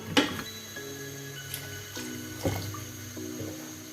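Water poured into a pan of curry with potatoes while cooking, a soft running trickle with small clinks and taps of utensils scattered throughout, close and moderately quiet.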